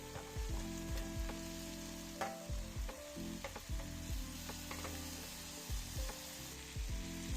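Browned oxtail and its resting juices go into a hot pan and sizzle steadily throughout, with the frying loud and continuous and broken by occasional stirring scrapes and clatter.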